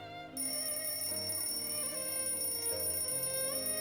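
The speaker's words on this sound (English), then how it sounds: "Our alarm clock plays its wake-up call." In a visual novel video game, an alarm clock plays a melodic, ringtone-like wake-up tune, steady and rather faint, with no voices.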